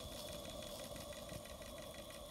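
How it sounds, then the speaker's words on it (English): A small MSM Clyde model steam engine runs in reverse at about 350 RPM, giving a faint, steady, rapid mechanical chuffing and rattle with an even beat and no voices. "This is Clyde on his second run in reverse doing about 350 RPM."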